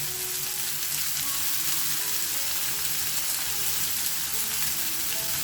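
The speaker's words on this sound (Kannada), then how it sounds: "ಜಸ್ಟ್ ಒಂದು ಸರ್ತಿ ತಿರುಗಿಸ್ಕೊಳ್ಳೋಣ, ಜಾಸ್ತಿ ಬೇಡ" Sliced onions and curry leaves with a pinch of hing sizzle steadily in hot oil in a pan while being turned once, a dense continuous crackle with no pauses.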